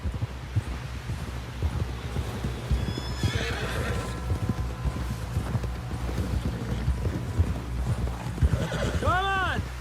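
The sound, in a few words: horses galloping, from a video game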